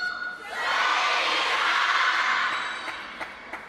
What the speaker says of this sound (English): And the pattern of the cheer is Sun Yingsha, Jiao, Jiao, Sun Yingsha